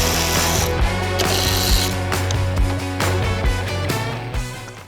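Headlights come off a Honda Civic under repair as a power tool ratchets and whirs in short bursts nearby, alongside clicks and clunks from working on the car.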